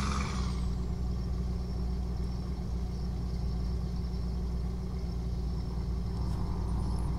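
A Mercedes-Benz Actros truck in Euro Truck Simulator 2 rumbles along under a steady low engine drone with a constant mechanical hum, cruising evenly without pause and with no talk.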